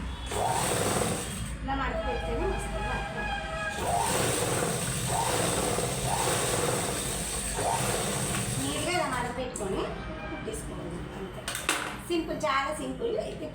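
A sewing machine stitches a folded blouse lining in quick bursts of rapid mechanical whirring. Someone talks steadily over the stitching, and brief clicks and handling sounds come between the runs.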